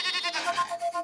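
A cartoon goat gives one short, wavering bleat, close and fairly quiet, heard alone with no talking.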